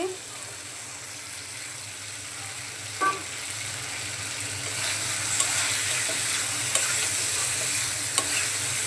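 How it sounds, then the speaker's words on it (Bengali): Pieces of fried magur catfish go into a pan of sizzling spice masala. A steady frying hiss runs throughout, broken by a few sharp clicks and knocks from a spatula stirring the pan. "মশলা কষানো হয়ে গেছে এখন বেজে রাখা মাছগুলো দিয়ে দিচ্ছি"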